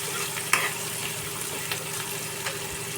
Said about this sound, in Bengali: কুচিয়ে রাখা পেঁয়াজগুলো হালকা ভেজে নেব।